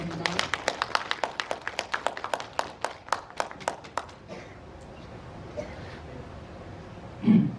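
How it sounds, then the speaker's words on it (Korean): Audience applause welcoming a lecturer at a history talk: a round of crisp, evenly paced claps, moderately close, that fades out after about four seconds into quiet room murmur. "큰 박수로 환영해 주시기 바랍니다"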